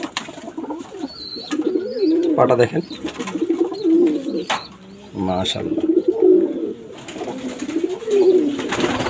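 A Pakistani breed pigeon coos in close, rolling low phrases, repeated several times, while someone talks over and between the calls.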